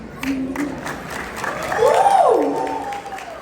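An audience at a kids' fashion show during an Ugadi festival claps, a short burst of crowd applause mixed with voices and a rising tonal sound from the stage.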